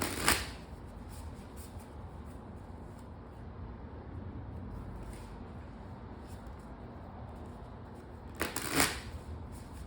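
Tarot cards are shuffled during a reading, a near, soft continuous riffling and sliding of cards with a louder burst of shuffling at the start and again near the end.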